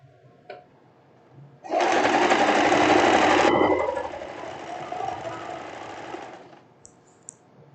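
A sewing machine runs a straight hem along a short printed dress, starting abruptly, whirring loud and steady for about two seconds, then continuing more softly before stopping, with a few small clicks around it.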